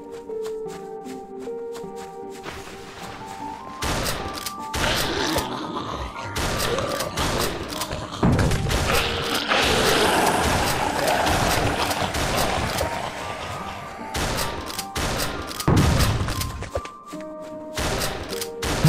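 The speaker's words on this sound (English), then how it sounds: "That hit no one, that bomb." Video game explosions, grenadier-style bombs blowing up, burst out repeatedly among busy, dense game sounds and broadband crashes, loud and close throughout.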